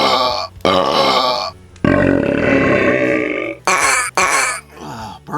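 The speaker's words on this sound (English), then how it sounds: "Burps." Several loud, close burps, one long and drawn out among shorter ones, with no talking.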